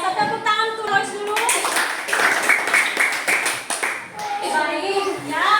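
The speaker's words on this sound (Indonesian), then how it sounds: "Tepuk tangan tuh Lois dulu." Children in a classroom clap for a pupil, a brisk patter of many small hands rising mid-clip between children's voices talking before and after.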